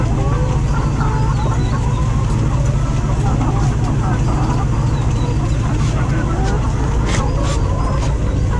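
Chickens cluck steadily on a poultry farm, a dense flock close by over a constant low hum, with people talking now and then among the birds.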